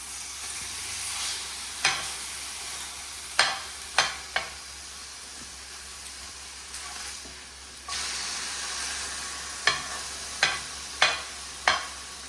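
Burger patties topped with cheese sizzle steadily on a hot surface, a constant frying hiss punctuated by several sharp scrapes and taps of the spatula as they are flipped.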